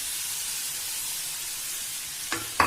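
Minced meat sizzles in a pan with browned onions as a steady, bright frying hiss, then a couple of quick stirring scrapes near the end.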